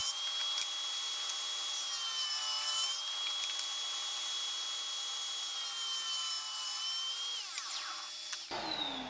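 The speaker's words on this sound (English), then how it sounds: "Now it's time to make it thinner, and for this I use the table saw" A table saw ripping a wooden piece thinner in several passes, a sustained high whining cut held steady and close for several seconds before the blade winds down at the end.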